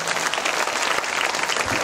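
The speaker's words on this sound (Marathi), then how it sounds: "एकदा त्यांच्या मायबापांसाठी तुम्ही टाळ्या वाजवल्या पाहिजे" An audience at a Buddhist dharma talk claps for the parents of the monks. The applause is dense, steady and sustained, filling the room evenly from start to end.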